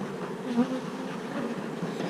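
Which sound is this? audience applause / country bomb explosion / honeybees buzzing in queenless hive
honeybees buzzing in queenless hive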